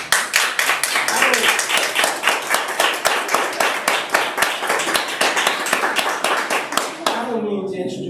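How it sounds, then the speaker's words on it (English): A live audience claps loudly and steadily at a peace day event, dense rhythmic hand claps close and continuous for several seconds before abruptly stopping. "You should give yourselves a round of applause"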